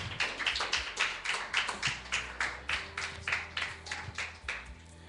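Church congregation clapping in rhythm, a steady series of hand claps at a regular beat, fairly close and moderate in volume, standing to welcome Pastor Santos.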